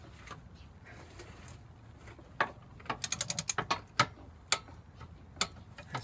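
A ratchet wrench clicks in quick uneven bursts while tightening a bolt during an NP249 transfer case install, sharp close ticks over a quiet background.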